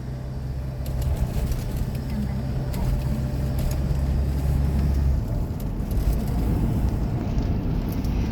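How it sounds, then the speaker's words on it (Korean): A car drives along the Hallim coastal road on Jeju, a constant close road rumble and engine drone from inside the cabin, with occasional faint clicks and no talking. "한림 해안길을 저희는 지금 드라이브 하고 있습니다."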